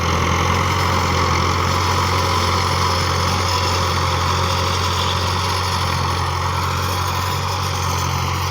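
An Iranian MF 285 tractor works under full load pulling an 11-tine plough across a field, its engine droning loud and steady with a strong low hum throughout, no talk.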